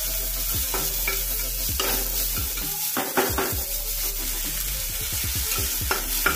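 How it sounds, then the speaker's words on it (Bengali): Chopped onions fry over a low flame in a pan for chicken kosha, a steady close sizzle broken by repeated scraping and clattering strokes of a spoon stirring them, with no talking. "পেঁয়াজটা ভাজা হয়ে গেছে"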